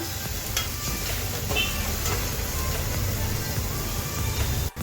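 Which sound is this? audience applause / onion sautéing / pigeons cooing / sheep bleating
onion sautéing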